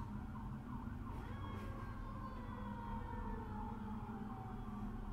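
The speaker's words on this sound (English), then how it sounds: "Yeah, there's a fire truck." A fire truck siren wails steadily over low, constant traffic rumble, its rising and falling tones sustained throughout, fairly distant rather than close.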